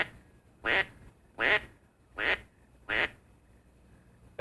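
A hand-operated duck call imitating a hen mallard, four evenly spaced loud quacks close up, each short and nasal, with quiet gaps between.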